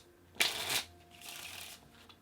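Playing cards are riffled and shuffled nearby, a quick crisp burst followed by a softer second flutter, with no talking.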